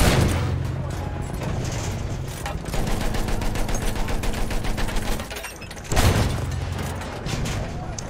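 Sustained gunfire and explosions from a Battlefield 1 match, with a St Chamond tank battle in progress: dense rapid bursts roll on for several seconds, drop briefly, then a loud blast and more firing follow, with a voice talking over it.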